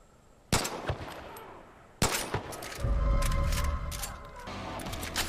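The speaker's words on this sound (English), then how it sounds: "Maybe I can shoot them from here." Gunfire in the video game Far Cry 5: two sharp, loud shots a second and a half apart, followed by a burst of rapid shots with a rumbling tail, up close.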